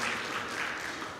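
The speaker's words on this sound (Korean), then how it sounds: "하나님께 영광의 박수 올려드립니다." Church congregation applauding in praise, a dense, steady wash of many hands clapping close by, with no voices standing out.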